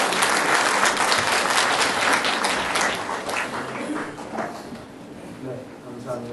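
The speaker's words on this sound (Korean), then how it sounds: "박수로 환영해 주십시오." A church congregation applauds to welcome a seminary professor at a fellowship gathering, dense clapping that starts loud and gradually thins and fades as it trails off.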